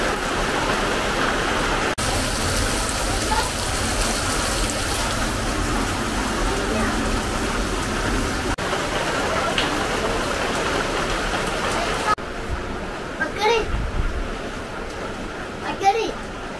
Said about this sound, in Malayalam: ഇന്ന് പകലൊന്നും വലിയ കാര്യമായിട്ട് മഴയില്ലായിരുന്നു, ഇപ്പം ചെറുതായിട്ട് തുടങ്ങിയിട്ടുണ്ട്